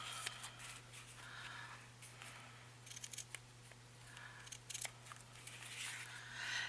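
Scissors make small snipping cuts while trimming paper for a scrappy collage journal cover, a scattered series of soft close snips over a steady low electrical hum, with no talk.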